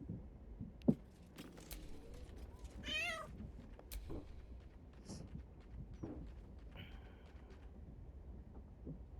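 Cat meowing in the video game Baldur's Gate 3: a faint, brief meow rising and falling over quiet game ambience with scattered soft clicks and chirps, no talk.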